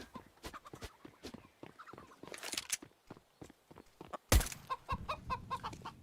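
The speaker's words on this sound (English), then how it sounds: "Oh dear, seems the black chicken will not die this round." Chicken clucks in a round of the video game CS:GO, a series of short, close clucking bursts over game sounds, followed by a sharp loud impact and a brief busier stretch of game noise.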